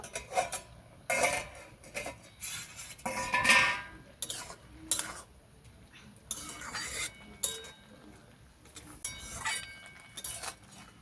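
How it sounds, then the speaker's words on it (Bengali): Clinks and clatters of metal cookware as the lid comes off a cooking pot, scattered sharp knocks and scrapes in short bursts, close and moderately quiet. "পাঁচ মিনিট হয়ে গেছে, এখন আমি চাপাটা খুলে নেব।"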